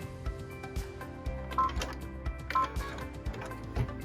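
A sewing/embroidery machine stitches the final outline, which is also the cut line, on a pieced quilt block, giving a steady run of close, rhythmic mechanical taps and clicks with a low motor hum beneath.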